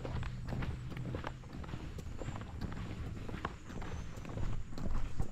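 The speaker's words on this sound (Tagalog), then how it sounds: "Uy, kabayo. Kabayo. Kabayo." Horse hooves clopping at a walk along a muddy rural road, a steady run of soft, fairly close hoofbeats over low background noise.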